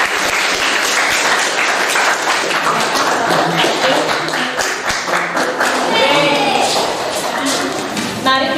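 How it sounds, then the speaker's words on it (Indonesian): A class applauding group 1, with dense clapping from many people filling the room and holding steady at full strength the whole time, as voices speak underneath. "kita kasih aplaus terlebih dahulu untuk kelompok 1"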